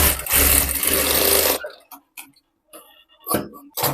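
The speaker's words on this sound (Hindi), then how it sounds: "अब इसी के ऊपर मैं पट्टी रख के सिलाई लगा दूंगी।" Sewing machine stitching the waist band onto a blouse, running in a loud continuous burst for about a second and a half, then stopping; a few softer handling sounds and faint talk follow.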